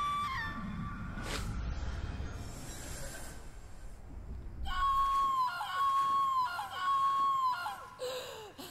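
A scream from the survival horror game Haunting Ground, a sharp wailing cry over dark rumbling ambience, followed by a long, piercing sustained shriek that wavers and repeats in bursts.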